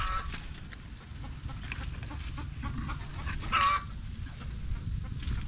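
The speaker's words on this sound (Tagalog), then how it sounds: "Pumuputak din yun eh." A hen in a farmyard flock clucks and cackles faintly and at a distance in short calls over a constant low background hum.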